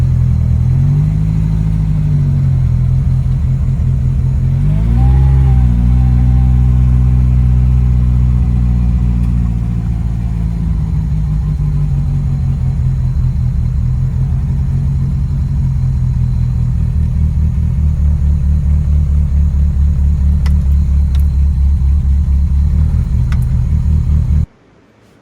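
A Lancia Appia GTE historic racing car idles and creeps into a garage, its engine giving a steady low rumble with a brief rev around midway, continuing closely until it cuts off abruptly at the end.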